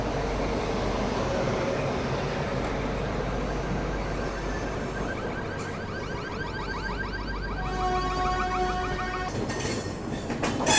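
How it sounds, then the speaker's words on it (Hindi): A Vande Bharat train bound from Secunderabad to Visakhapatnam rolls into platform 1 with a steady rumble of wheels, rising clatter and faint squeals of metal on rail, swelling louder toward the end as it nears. "1 नंबर पे वंदे भारत की एंट्री सिकंदराबाद से विशाखापट्टनम की ओर जाने वाली"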